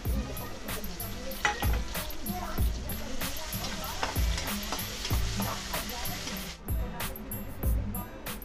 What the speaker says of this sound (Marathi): त्यामध्ये मी एक मोठा कांदा आणि अर्धा टमाटर बारीक कापून टाकलेला आहे एक मिनटं परतून घ्यायचं आहे